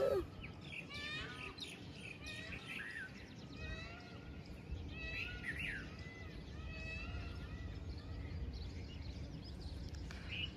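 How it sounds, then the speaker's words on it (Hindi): Birds sing and chirp on an early-morning rooftop, with several overlapping whistles and tweets at moderate distance over a soft, steady background hum, fairly faint overall. "इतनी मस्त मस्त आवाज आ रही है, चिड़िया की, कोयल की, मोर की"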